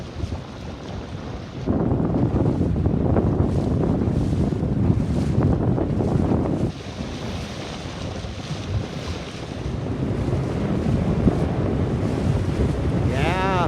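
Strong wind gusts roar across the open ocean during a Laser sailing regatta, a sustained buffeting rush with waves and water noise, swelling loudly, easing partway through, then continuing.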